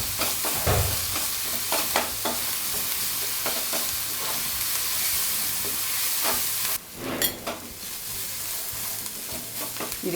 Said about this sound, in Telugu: ఇవన్నీ కూడా పచ్చివాసన పోయేంత వరకు వేయించుకోవాలి.